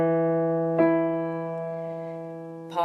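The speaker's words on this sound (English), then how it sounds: "Here is the sound of do." Sustained reference pitch tone for "do" in a sight-reading lesson, a clean steady note rich in even harmonics, briefly re-struck midway and again at the end.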